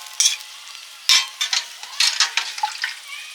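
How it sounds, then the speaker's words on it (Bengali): Mustard paste goes into a sizzling pan while cooking hilsa fish curry with taro, followed by a spoon scraping and stirring in sharp, irregular strokes over a soft frying hiss, close and clear. "এবার দিচ্ছি সর্ষে বাটা"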